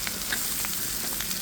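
Sliced radish stir-fry is stirred in a hot pan, a soft continuous sizzle with light scraping and tossing sounds spread across the brief moment.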